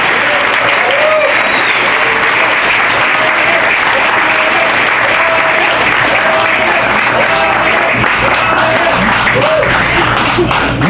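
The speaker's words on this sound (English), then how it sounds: "Let's give a big round of applause and his family." A crowd at a Republican press conference applauds State Rep. Ryan Guillen and his family with loud, sustained clapping and cheering, while voices rise and chant through the dense noise.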